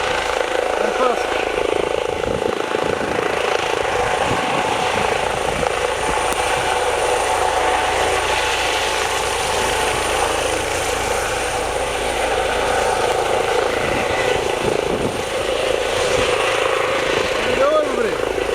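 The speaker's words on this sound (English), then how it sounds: "The helicopter is turning." A helicopter flies overhead and turns, its steady rotor and engine drone continuous and fairly loud throughout, with outdoor background noise mixed in.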